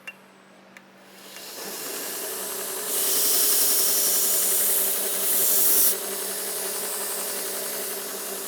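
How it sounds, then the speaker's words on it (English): A belt grinder runs with a 120 grit belt doing the finish grind on a railroad spike knife, a steady loud abrasive hiss and motor drone that swells harder for a few seconds as the steel presses against the belt. "I've switched to my 120 grit belt. And I'm just going to do my finish grind on here."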